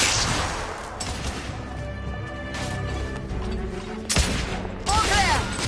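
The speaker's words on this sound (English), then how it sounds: "Lay down suppressive fire." Sustained bursts of suppressive gunfire in a Victorian-era shooter game, The Order: 1886, crackling and booming close by in a loud, continuous fusillade with sharp impacts near the end.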